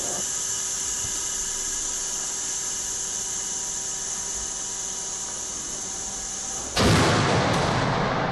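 A single loud cannon blast from Anish Kapoor's gallery performance piece Shooting in the Corner, a sudden broadband boom near the end after a steady hiss, with no talking.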